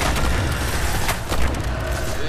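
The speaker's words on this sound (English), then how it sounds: "Explosion." Loud explosion in the Destiny video game, a broad rumbling boom with crackling debris that fills the whole stretch and swells briefly near the middle.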